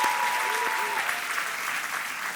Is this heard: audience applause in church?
yes